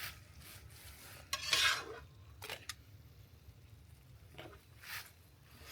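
A utensil scrapes and scoops cooked rice from a Tembo Tusk Skottle onto a plate: soft scraping and a few short metallic clinks and scuffs over a low background hum, with no speech.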